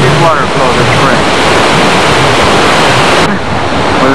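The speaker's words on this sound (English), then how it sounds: "That's the lower part of Yosemite and a pretty good water flow this spring." Lower Yosemite Fall in spring with strong water flow, a loud, dense roar of rushing water close by, steady throughout, with wind buffeting the microphone and a voice speaking over it.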